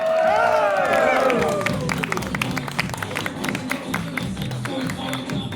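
A wrestling crowd at a deathmatch show cheers, whistles and claps in a loud sustained roar, with shouting voices rising early and broad clapping continuing throughout.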